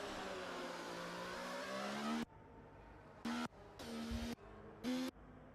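A Formula 1 car in a racing video game revs hard and steadily, then its engine note cuts in and out in short bursts as the throttle is blipped and released.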